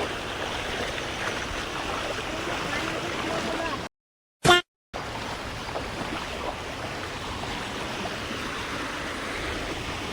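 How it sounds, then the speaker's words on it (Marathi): Strong, steady rush of a rain-swollen village stream in flood, loud and continuous for the whole stretch apart from a brief break near the middle. "पाण्याचा फ्लो देखील जरा जरा जास्त आहे"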